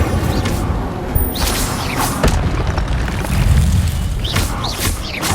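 Incendio fire spell cast in Hogwarts Legacy, heard as loud repeated fiery bursts and whooshing booms over a dense game-combat backdrop, several impacts spread across the stretch.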